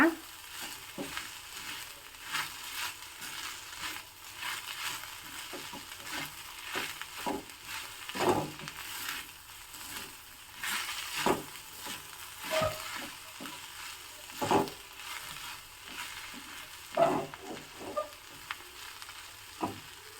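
Mustard seasoning frying slowly in a pan on low heat, a faint, steady sizzle with soft crackles and occasional stirring scrapes recurring across the whole stretch, close and quiet.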